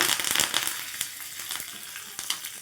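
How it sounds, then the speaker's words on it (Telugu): Mustard seeds, curry leaves and lentils frying in hot oil crackle and sizzle continuously, with sharp pops scattered throughout. "మొత్తం కూడా మంచిగా ఫ్రై చేసుకోవాలి"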